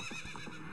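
A horse neighs in the video game Legend of Zelda: Ocarina of Time, a short, faint whinny with wavering pitch and no talking over it.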